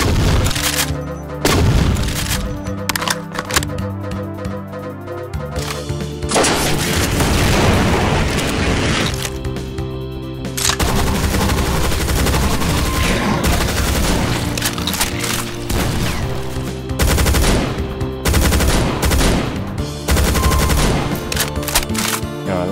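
Rocket launcher blasts and rapid gunfire in Doom 2 (Project Brutality mod), loud, dense booming explosions and sustained automatic fire with brief lulls, layered over game music and effects, no talk.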